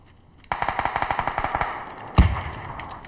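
Gunfire in PUBG, a rapid automatic burst of around fifteen evenly spaced shots with echo, then a single heavier boom ringing out afterward.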